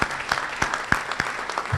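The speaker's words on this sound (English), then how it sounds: "So a big round of applause again for Congressman Buchanan." Applause for Congressman Buchanan at Lakewood Ranch Country Club, a loud but fairly sparse patter of distinct individual claps close by, irregular in rhythm across the room.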